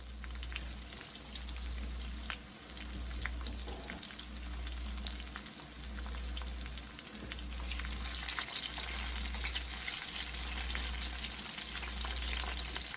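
Steady sizzling and crackling of a jalapeño frying in a hot pan, continuous and close, with a low hum pulsing underneath.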